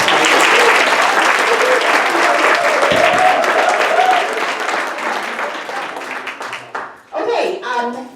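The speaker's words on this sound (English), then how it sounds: "Let's give Kim another big round of applause." Audience applause at a business expo, loud sustained clapping from a crowd that gradually tapers off, with a voice speaking briefly near the end.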